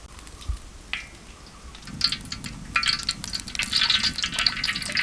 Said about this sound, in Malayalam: കുറച്ച് സൺഫ്ലവർ ഓയിൽ ഒഴിക്കാം നമുക്ക്